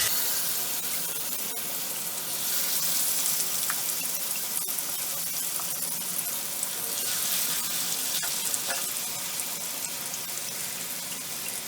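Chicken pieces fry in melted butter and oil in a pan on the stove, a dense, steady sizzle and crackle that fills the whole stretch, close and loud, with no talk over it.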